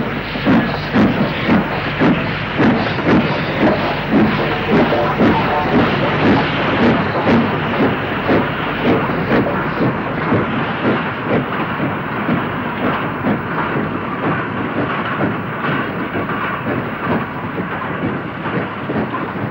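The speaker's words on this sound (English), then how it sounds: "45321 of Wigan Springs branch gets underway with a Class 8 freight" Steam locomotive 45321 of Wigan Springs Branch shed getting underway with a Class 8 freight in the summer of 1968, a loud continuous rumbling chuff with a steady pulsing beat, heard close throughout.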